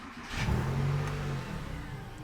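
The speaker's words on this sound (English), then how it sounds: "if I turn on the car" A flood-title Porsche 911 with an overheating problem starts up and revs once, a strong low engine note swelling briefly and settling back to a steady idle.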